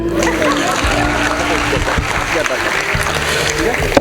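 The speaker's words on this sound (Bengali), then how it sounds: "আমার জন্য আগে একটা তালি দিয়ে দেন" An audience of students claps for a teacher in a classroom, a dense, steady wash of applause lasting about four seconds with voices mixed in.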